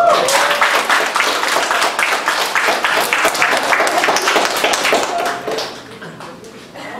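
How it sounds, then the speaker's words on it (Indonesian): A church retreat audience claps loudly, individual hand claps standing out in a dense, even patter that thins and fades near the end. "Tepuk tangan dong buat."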